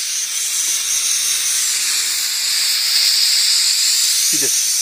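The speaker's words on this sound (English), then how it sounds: "She just popped the release valve on the air compressor." An air compressor's release valve pops open and lets out a loud, steady hiss of escaping air that runs throughout, close by, with a brief low knock near the end.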